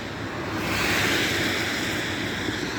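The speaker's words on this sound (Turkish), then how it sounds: "Bu şiddetli dalgaları sizlere göstermek istedim arkadaşlar." Strong, rough sea waves surging continuously at close range, a broad steady roar with wind buffeting the microphone, swelling slightly louder after the first half second and holding through the end.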